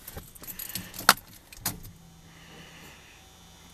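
An old, weathered key jangles in the ignition of a Ford F150 pickup, a few quick metallic clinks and rattles close by in a quiet cab.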